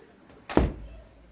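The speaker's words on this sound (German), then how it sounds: "mach auch die Tür zu" A door swings shut with a single solid thunk in an indoor room, loud and close, with no voices over it.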